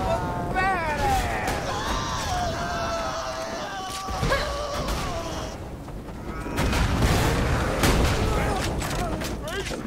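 Rocket launcher fire in the video game Borderlands 2 booms out in heavy blasts over game effects and a squealing whine, with players talking excitedly throughout.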